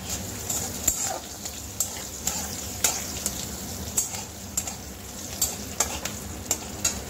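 Cumin, green chilli and black mustard seeds sizzle in hot tempering oil for a semolina snack, a steady close crackle with sharp pops and spoon scrapes recurring throughout, no voice.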